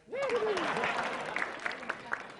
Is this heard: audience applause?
yes